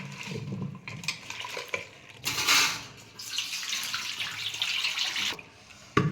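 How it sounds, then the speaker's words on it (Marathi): Fresh green pigeon pea pods washed in water in a pot or basin, with close sloshing and splashing, a louder rush of pouring water in the middle and rubbing of pods against the vessel. "पाणी स्वच्छ धुवून काढू"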